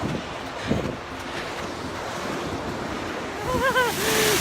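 Ocean surf washes up on a sandy Pacific beach where a river empties into the sea at low tide, a continuous close rushing of waves mixed with wind buffeting the microphone, and a brief voice near the end.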